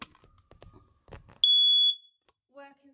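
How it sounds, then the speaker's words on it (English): A household fire alarm on a ground or first floor is tested, giving a single loud, piercing electronic beep of about half a second, between stretches of nearby talk. "Fire alarm."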